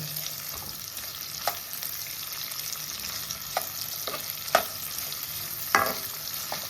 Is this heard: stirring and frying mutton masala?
yes